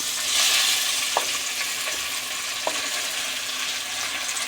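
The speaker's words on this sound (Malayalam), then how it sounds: "അതിലേക്ക് ഇനി നമ്മൾ അരിഞ്ഞു വെച്ച ചക്ക കുറേശ്ശെയായിട്ട് ഇട്ട് കൊടുക്കാം." Chopped jackfruit sizzles in hot ghee in a pan, a loud, steady frying hiss with a couple of faint taps from a spoon.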